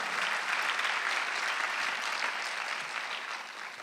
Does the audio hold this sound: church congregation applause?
yes